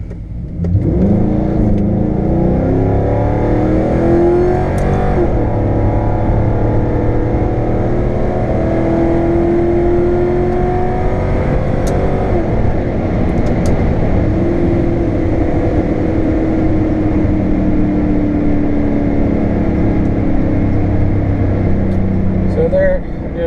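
A car fitted with a B&M Quicksilver ratchet shifter pulls hard through first, second and drive, then drops back into second for a long downshift pull, its engine revving loudly and rising in pitch close by with no break.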